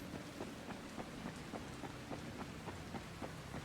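Steady rain patters on a surface in the video game Dying Light, with faint low thunder rumbling beneath, soft and continuous with no voices.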